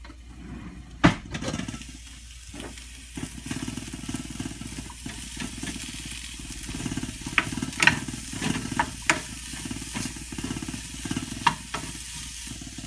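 Sweet potato and sprouts stir-fry in a pan, a steady close sizzle with frequent clacks and scrapes of a utensil, including a sharp hit near the start.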